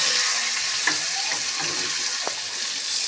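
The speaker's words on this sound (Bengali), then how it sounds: "বেগুনটা আগে ভালোভাবে লাল লাল করে ভেজে দিলাম।" Diced eggplant pieces seasoned with salt and turmeric frying in oil give off a dense, continuous hiss with a couple of soft clicks. The sizzle is close and even throughout, with no talking.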